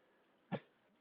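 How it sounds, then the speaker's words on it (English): A single short cough or throat-clear from a nearby person, one brief burst in an otherwise quiet room. "I can only cough on camera"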